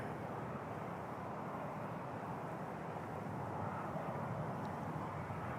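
A Lufthansa jet departs Toronto Pearson airport with a steady, loud broadband engine roar that holds throughout, no voices.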